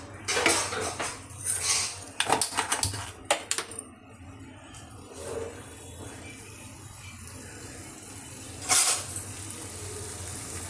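Fish pieces frying in a pan are turned over one by one, giving a run of clinks and metal scrapes from a utensil against the pan early on, then a quieter stretch of low frying with one more clatter near the end.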